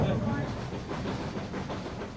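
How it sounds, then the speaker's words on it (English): A steam train climbs toward Cumbres Pass, the highest point on the line at 10,015 feet, running steadily at close range with continuous rumble and rhythmic clatter and hiss throughout, loud and without pause. "the train approaches the top of the hill at the station known as Cumbres"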